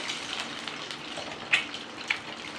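Cut egg pieces frying in oil over a low flame, giving a quiet, steady sizzle with a couple of brief louder pops.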